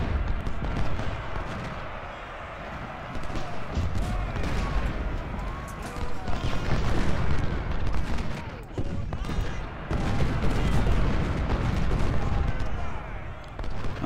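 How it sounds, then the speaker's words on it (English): Four-inch siege guns firing in the Civil War strategy game Ultimate General Civil War, dense repeated booming artillery and gunfire crackle throughout, loud and continuous under someone talking. "I'm going to get these 4-inch siege guns to start firing on these guys here"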